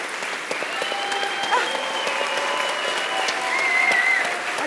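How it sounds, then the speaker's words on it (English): Audience applause at a climate movement talk, a steady sustained wash of clapping from a sizeable crowd, with a few whoops and tonal sounds riding over it throughout. "give her a clap anyway."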